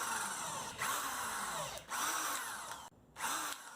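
A power drill driving screws into pallet wood slats, a faint whirring whine that rises in pitch, bogs down and stops between runs, giving three or four separate drilling bursts.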